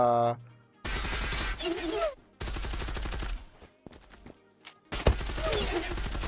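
Gunfire in the online shooter Zula comes in several loud bursts of rapid automatic fire, cut by brief gaps, with occasional shattering sounds.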